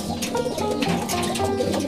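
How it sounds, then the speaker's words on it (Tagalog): A young pigeon coos steadily in a loft, soft low repeated calls close by with a faint busy background, no speech. "Young bird."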